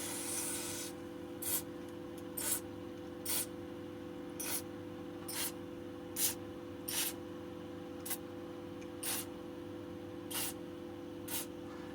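Anti-corrosion spray applied to a part of a Suntour HESC e-bike motor in short hissing bursts, about a dozen quick sprays at an even rhythm, close and fairly quiet with no talk.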